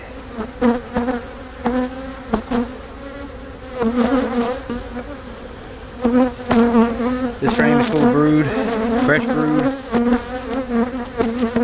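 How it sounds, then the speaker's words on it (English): Honey bees from an over-wintered hive open for inspection, buzzing loudly and close with a dense, wavering drone while someone talks over them. "Plenty of bees."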